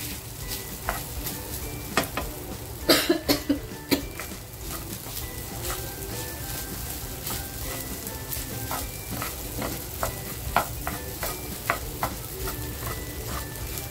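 Sabudana khichdi frying in a pan during Navratri fasting cooking, a steady sizzle under repeated scraping strokes of a spoon stirring it, with a cluster of louder clatters near the start.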